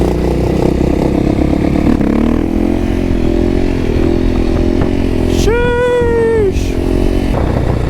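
An old 525 motorcycle ridden outdoors, its engine droning steadily and loudly throughout with wind rumble, then a brief rising rev near the end before settling back to a steady run.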